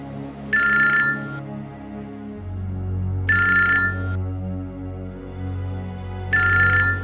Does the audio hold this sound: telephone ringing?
yes